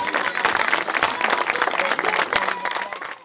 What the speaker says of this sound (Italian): Un applauso particolare a questi ragazzi meravigliosi.